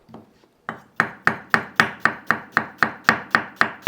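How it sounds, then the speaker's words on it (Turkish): A knife chops an onion on a board in a quick, even rhythm, about a dozen sharp close taps after a brief pause. "Bir tane soğanımızı piyazlık doğrayacağız."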